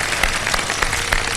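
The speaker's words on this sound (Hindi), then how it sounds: "बहुत सारी तालियां हमारे कंटेस्टेंट्स के लिए" Applause for quiz show contestants on a Ramadan iftar TV program: a brief, dense burst of studio audience clapping that holds steady throughout.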